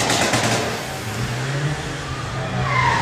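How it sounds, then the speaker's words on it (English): A wrapped Nissan GT-R at a street car event rounds a corner on track, its engine roaring steadily with a rising pitch and a faint tyre squeal, loud and fairly close amid a broad outdoor wash. "Very nice wrapped GTR about to come round the corner as well."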